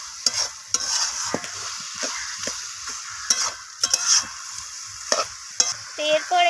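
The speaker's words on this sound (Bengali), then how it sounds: "এখানে বাঁধাকপি কষাতে কষাতে বাঁধাকপি থেকে জল ছাড়তে শুরু করেছে।" Shredded cabbage stir-fried in a pan as it starts releasing water, a steady close sizzle broken by frequent sharp scrapes and knocks of the spatula against the pan.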